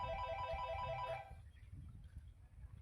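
A telephone rings with a repeated electronic trill, loud and steady for just over a second before cutting off, leaving low background rumble.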